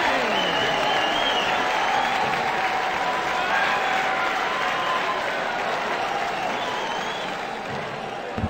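Steady, loud crowd applause fills a packed darts arena in a video game, sustained throughout with a faint voice briefly audible underneath.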